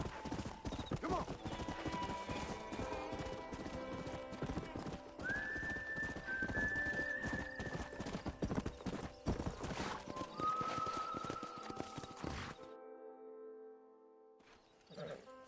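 Horses trot in the video game Red Dead Redemption with a steady, dense clip-clop of hooves and occasional whinnies, close and continuous under game music and speech, ending abruptly.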